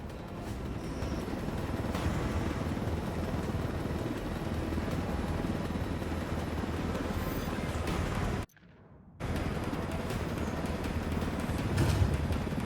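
Helicopter in the video game Ghost Recon Wildlands, a loud continuous rotor and engine roar with a brief cut-out near the end before resuming, no talking.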